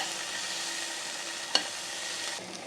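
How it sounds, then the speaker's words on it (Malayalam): Cut tomato sautéing in a pan for a dried shrimp curry, with a soft, steady sizzle and a single brief clink of a utensil near the middle. "തക്കാളി നന്നായിട്ട് തന്നെ ഒന്ന് വഴറ്റിയെടുക്കാം."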